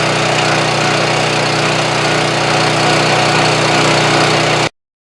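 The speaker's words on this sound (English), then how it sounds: "He had a post hole auger." A post hole auger engine drones loud and steady right at hand for several seconds while digging into the ground beside a shed site, then cuts off abruptly.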